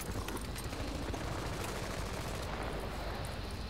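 Rapid, continuous gunfire from the video game Bad Company 2 Vietnam, a steady dense rattle of shots at a moderate distance with no voices.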